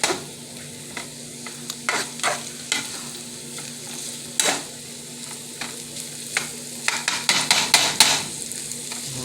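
Chopped meat for a Bronx bodega-style chopped cheese sizzles steadily in a pan while a spatula scrapes and chops through it again and again, the strokes growing quicker and busier toward the end.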